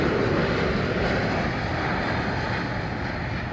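An airliner lands at London Heathrow Airport, its engines producing a loud, steady broadband roar that fades slightly as it passes.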